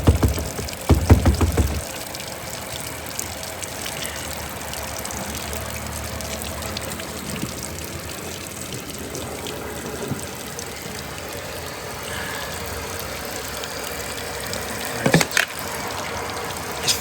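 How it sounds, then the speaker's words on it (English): Hose water runs and trickles down the passenger door of a VW Polo to simulate rain, a steady soft wash with a few louder splashy bursts near the start and end. "obviously we've got the hose down the back of it simulating this out in the rain"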